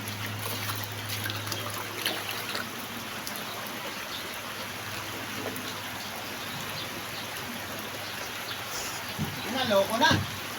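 Continuous rain patters and trickles nearby in a steady wash, with a brief burst of louder splashing near the end, as the rain begins to cause flooding.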